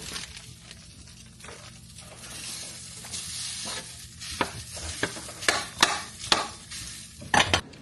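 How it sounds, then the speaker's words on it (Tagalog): Sausage and scrambled egg being stirred in a frying pan at home, with steady sizzling and soft scraping strokes of a utensil growing louder and more frequent toward the end. "I-mix ko lang ang sausage at saka yung itlog."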